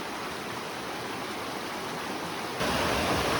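A mountain stream rushes continuously in a broad, steady hiss, growing slightly louder toward the end, with no voices.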